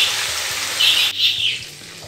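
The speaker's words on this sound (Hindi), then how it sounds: "अब हम इनको थोड़ा सा सेट कर लेंगे ताकि हर पीस जो है अच्छे से ऑयल में डिप हो जाए।" Chicken pieces frying in hot oil for Jama Masjid–style fried chicken, a steady broadband hiss with brief louder surges, no talk and low hum beneath.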